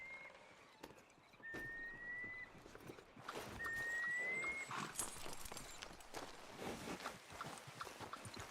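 A horse in Red Dead Redemption 2 whinnies twice amid soft hoof clops and outdoor ambience, fairly close and moderately quiet, with no talking over it.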